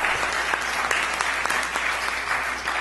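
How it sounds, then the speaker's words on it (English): Audience applause for a speaker at a club meeting, a continuous, even roar of many hands clapping that holds at a steady level for about three seconds. "We give him applause."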